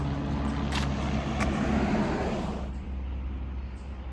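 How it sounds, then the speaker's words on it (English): Car traffic rolls along Lexington Avenue in Concord, Massachusetts, a steady roadside rumble and hiss of passing vehicles that swells and then eases slightly, with no voices. "I'm sorry for the car noises because I am on Lexington Avenue, which is one of the main roads"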